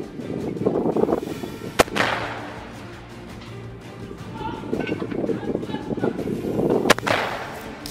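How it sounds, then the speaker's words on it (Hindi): Rocket launches by Hamas fighters hidden among greenery, two sharp cracking blasts a few seconds apart, each followed by a long roaring whoosh that swells and fades, with loud rumbling throughout. "हमास के कुछ लड़ाके लॉन्चर में रॉकेट भरकर फायर कर रहे"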